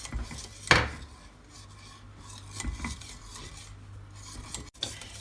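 Turkish pudding mixture stirred in a pot over medium heat, with repeated scraping and clinking of a utensil against the pot and one sharper knock near the start, quiet and close with no talk.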